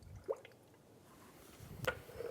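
Coolant bubbles through a radiator funnel while the cooling system of a 2010-2015 Lexus RX350 is bled, giving faint, sparse gurgles and drips with quiet pauses between them.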